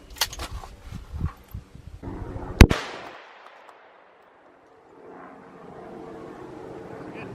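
A .44 Magnum fired at a padlock outdoors: one sharp, loud gunshot crack cutting through some handling noise, then a ringing decay fading into near silence before faint background noise returns.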